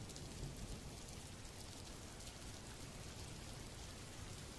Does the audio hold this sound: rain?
yes